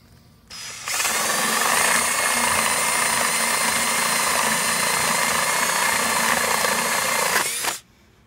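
A power drill whirs steadily at close range for several seconds, boring holes in wood, starting and stopping abruptly.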